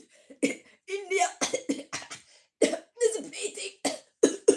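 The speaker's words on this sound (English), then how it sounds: "even if I have to cough through the whole message." A man coughs repeatedly in short, rough bursts while trying to keep talking. The coughs are close and broken up by quick pauses.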